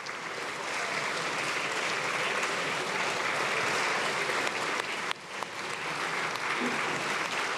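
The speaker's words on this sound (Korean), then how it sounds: "의원들이 악수를 하고 또 박수를 건네면서 이재명 대통령을 환영하고 있고요" Lawmakers in the National Assembly chamber applaud steadily as the president enters and shakes hands, a dense sustained round of clapping with a brief dip near the end, carrying on without speech.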